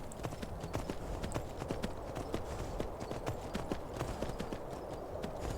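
Steady clip-clop of horse hooves at a quick gait in the video game Skyrim, close and continuous, with a faint rumbling background throughout.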